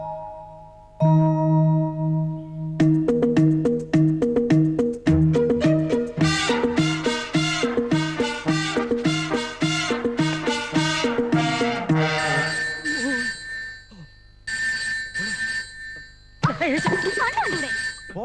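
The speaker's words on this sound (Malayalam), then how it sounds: "ഫോൺ അടിച്ചാ കേൾക്കാൻ പാടില്ല കഴുതേ." A phone rings with a melodic ringtone, loud and close, playing a repeated note pattern for several seconds before changing to higher tones, with speech breaking in near the end.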